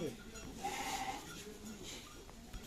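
A flock of goats bleats on a farm, with one clear drawn-out bleat near the middle and fainter animal calls around it, while a voice talks faintly underneath.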